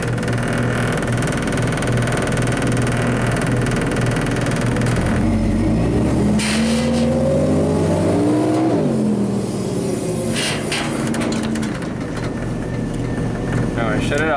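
A JLG lift engine, a little flooded after many starting attempts, runs with a steady loud mechanical drone and briefly revs up and settles back down midway, continuous throughout.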